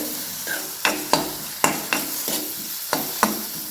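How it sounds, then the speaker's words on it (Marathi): Gram flour (besan) roasting in oil in a pan for a spring onion dish, with a steady low sizzle broken by repeated sharp scraping strokes of a spoon stirring at an even rhythm, close and clear with no talking. "बेसनला पण आपल्याला तेलामध्ये छान असं भाजून घ्यायचे"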